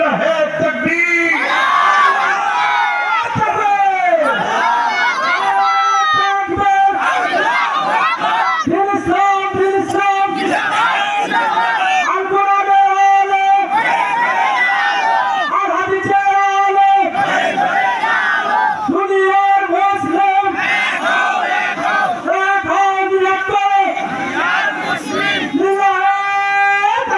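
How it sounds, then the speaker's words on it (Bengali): A large crowd at a Quran tafsir mahfil chants the takbir 'Allahu Akbar' in loud, repeated, rhythmic unison, with voices swelling continuously for the full stretch. "আল্লাহু আকবারের ধ্বনিতে মুখরিত করে দেন"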